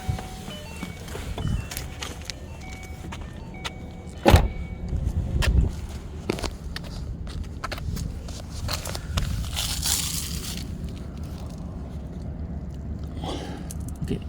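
A twin-turbo Ford Mustang rolls slowly and pulls in to park, its engine rumbling low and fairly quiet, with a sharp thump and then scattered clicks and rustles around it.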